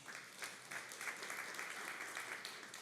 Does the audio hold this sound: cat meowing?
no